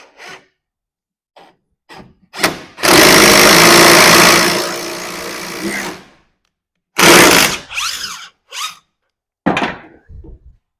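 A ratchet backs off a leaf spring bushing nut on a Ram 2500 in fast, rough bursts: a long run of about three seconds, then several shorter grinding spurts, close by and loud between quiet gaps.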